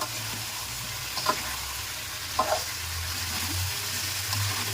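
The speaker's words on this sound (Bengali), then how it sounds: "এগুলো কিছুক্ষণ কষায় নিব।" Beans, potato, tomato, radish and cauliflower fry in a pan, a soft, continuous sizzle with a few brief scraping clicks from stirring, close but fairly quiet, with no voices.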